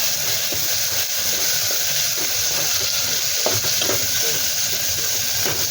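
Onions and tomatoes fry in a pan with a loud, steady sizzle and hiss that runs unbroken from start to finish, with faint stirring scrapes underneath.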